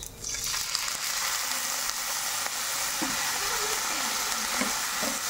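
Garbanzos being fried and stirred in a pan with oyster sauce and black pepper give off a steady close sizzle, with soft scraping stir strokes recurring through it.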